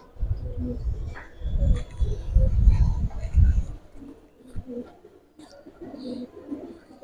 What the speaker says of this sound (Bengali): ফুল সিলভার কবুতর।